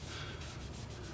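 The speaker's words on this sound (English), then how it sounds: "I'm applying Zinzer Sealcoat as a sanding sealer." Zinsser Sealcoat sanding sealer being rubbed onto turned holly crotch wood, a soft continuous scuffing friction, faint and close, steady with no talking.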